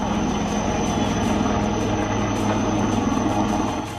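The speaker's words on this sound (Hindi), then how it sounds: "हेलीकॉप्टर से लोगों को बचाया जा रहा है" A rescue helicopter flies over the flooded Jammu area, its rotor and engine producing a loud, continuous thrumming drone with steady blade chop that holds throughout and fades slightly at the end.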